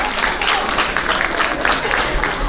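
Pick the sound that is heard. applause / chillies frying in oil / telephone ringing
applause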